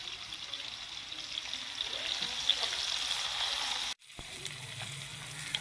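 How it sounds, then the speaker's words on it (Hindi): Onions fry in a pan until brown for a mixed moong and masoor dal, giving a steady, close hissing sizzle that briefly cuts out before resuming. "प्याज को हम ब्राउन कर लें अच्छे से"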